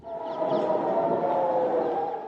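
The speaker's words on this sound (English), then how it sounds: "sirens rang out over the northern Israeli city of Haifa" A long, wailing air raid siren sounds steadily from a distance over Haifa, Israel, holding a sustained tone with no voices over it.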